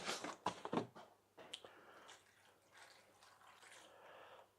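Water is poured to top up a container while sowing seeds at an allotment, with a quick splashy burst followed by a softer, fading trickle nearby.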